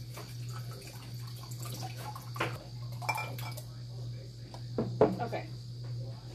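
Water is poured into a cooking pot while making homemade garden hot sauce, with a few soft splashes and clinks against a low steady hum; quiet and close.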